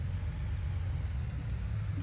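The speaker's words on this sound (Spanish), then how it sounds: "no recuerdo si este es el sonido real del autobús, pero ahí está" A video-game Marcopolo New G7 1800 DD bus engine idles with a steady, low, even rumble throughout. No talk.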